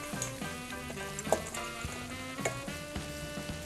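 Wild rice stuffing with bread and toasted walnuts sizzles as it is stirred in a hot pan, giving a continuous close frying hiss broken by irregular scraping knocks of the spoon.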